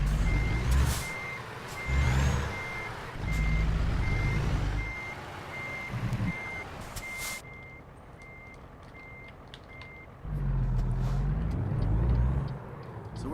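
A recently repaired truck rumbles through repeated engine surges while a steady reversing beep repeats for several seconds, then the motor swells again near the end, fairly close and without talk.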